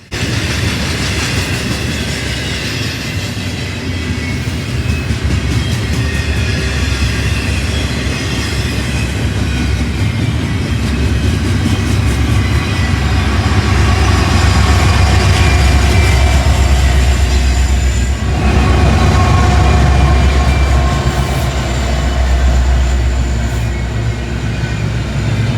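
A freight train with mid-train DPU locomotive 1068 rolls past, a loud, sustained rumble of wheels and cars with rhythmic clatter and faint squeals, swelling and holding for about twenty-five seconds.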